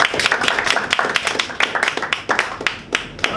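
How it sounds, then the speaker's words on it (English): A small audience at a Toastmasters evaluation session gives a round of applause, with distinct, uneven claps from a modest group close by, scattered and patchy rather than a dense roar. "Let's give him a round of applause."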